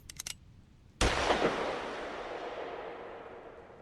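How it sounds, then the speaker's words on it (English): A single loud gunshot from a handgun blasts once after a few faint soft clicks, followed by a long ringing, echoing decay that fills the rest of the moment in a room. "A single shot rang out in that room,"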